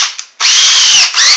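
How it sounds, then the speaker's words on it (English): A power drill bores through the plastic case of a Sega Genesis console, first a short whir and then a loud, sustained grinding whine as the bit cuts in, close up, with no speech. "So you got to go with a bigger drill bit."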